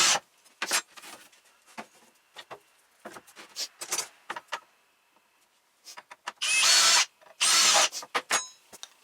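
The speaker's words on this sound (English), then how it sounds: "now that you got your hole drilled in your decoy" A power drill whirs in short, separate bursts with quiet gaps between, ending in two longer, louder runs as the bit bores into a wooden decoy.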